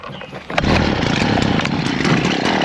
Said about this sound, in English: put it on some choke and just see if it starts. Look at that. It might sputter a little bit.